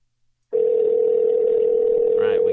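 A phone call placed during a podcast, heard as a loud continuous telephone tone that begins after a brief silence and holds steadily to the end, with a faint voice near the close.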